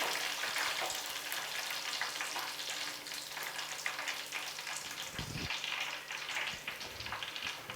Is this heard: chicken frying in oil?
yes